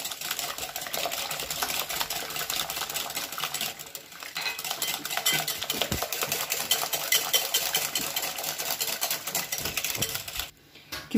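Cake batter with sugar for an apple and chocolate cake is beaten by hand in a bowl: a fast, continuous rhythmic clatter of utensil against the bowl, close and loud, pausing briefly near the end.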